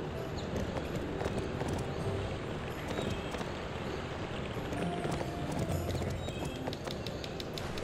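Horse hooves gallop in the Barbie Horse Adventures video game with a fast, continuous clip-clop rhythm, heard together with game background sounds at a moderate level.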